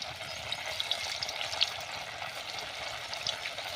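Veg Manchurian balls fry in hot oil with a constant, even bubbling sizzle and scattered small pops, steady and close, with no speech.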